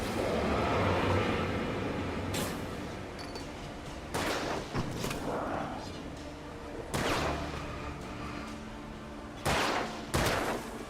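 Gunfire in the video game Alan Wake, several loud isolated shots, some in quick pairs, cutting through a dark rumbling game soundscape while a player speaks.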